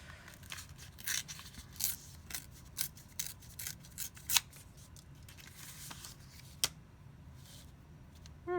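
Paper being torn by hand for a notepad craft, a run of close, crisp rips and rustles in short irregular bursts, quiet overall and with no talking.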